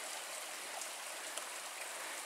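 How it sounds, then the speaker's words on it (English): A creek flows below a hiking trail on the Superior Hiking Trail, a steady, even rush of water heard from above, with no talk over it. "the trail has been following just above this creek."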